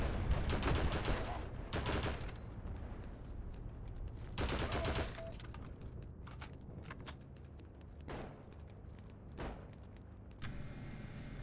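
Rifle fire from an AVS in the shooter game Heroes and Generals, loud bursts of gunfire separated by gaps, with steady background noise between the shots.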